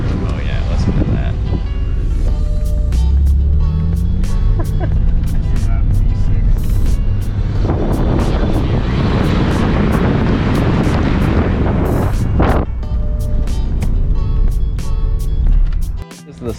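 A Pontiac Firebird's six-cylinder engine runs loudly and continuously up close, mixed with heavy wind buffeting and rumble, with a voice talking over it at times before it cuts off abruptly near the end.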